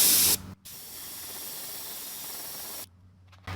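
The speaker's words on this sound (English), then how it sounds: "Just lay this screen on it like that and spray one color." A steady hiss from a spray can or airbrush painting scales onto a swimbait lure through a screen runs for a few seconds without pause, close and fairly loud.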